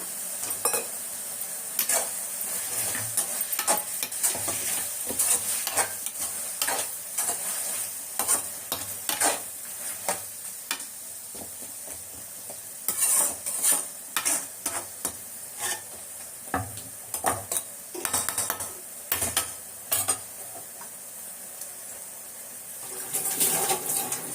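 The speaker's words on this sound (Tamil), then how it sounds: "இப்போ முருங்கைக்காய் நல்லா வதங்கிச்சு. எறாவை போட்டுக்கலாம்." Prawns and drumsticks sauté in a pan, a constant sizzle broken by repeated scraping and stirring strokes of a spoon against the pan, close and without talking.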